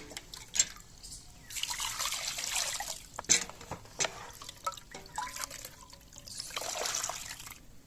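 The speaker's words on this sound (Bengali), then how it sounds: "আমি আবারও জল দিয়ে ভালো করে ধুয়ে নেব পুরোটাই যেন ভিতরে কোনো ধুলো না থাকে" Water pours and trickles over a clay pitha pan as it is rinsed clean of dust, with splashy bursts, drips and sharp knocks of the pan at close range, no voice over it.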